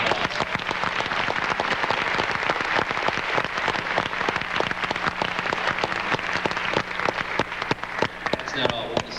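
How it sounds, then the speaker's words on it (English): Audience applause rings out for a dance group at a 1989 school musical show, a dense, sustained burst of many hands clapping that carries on for several seconds. "Why don't we give them another round of applause?"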